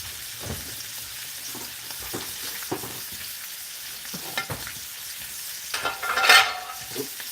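Steak searing in a hot pan, a low crackling sizzle with scattered bumps and clatters of utensils, and a brighter scrape near the end.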